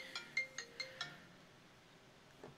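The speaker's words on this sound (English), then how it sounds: "Be silent, my phone. Be silent." A mobile phone ringtone plays five quick, bright chiming notes in an even rhythm, then one fainter note after a pause, quiet and alone in a room.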